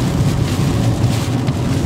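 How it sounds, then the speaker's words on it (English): Steady rain pours outdoors at night, a dense, continuous close-up hiss with a low rumble beneath it and no talking. "It is raining out here."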